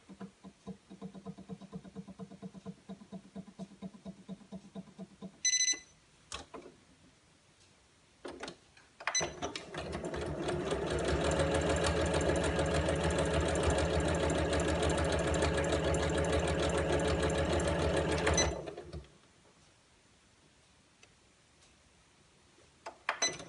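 A sewing machine stitches calico in short bursts: a brief ticking run at the start, a few clicks, then a long steady whirring stretch of fast stitching that stops abruptly.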